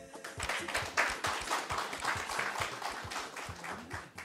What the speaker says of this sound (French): j'aimerais bien qu'on l'applaudisse